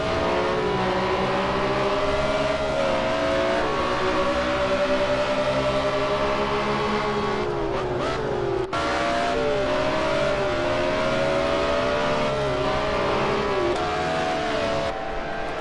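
BMW M1 Procar race cars lapping Hockenheim in a sim racing game, engines howling steadily at high revs with rising and falling pitch as they shift and brake, two cars running close together throughout.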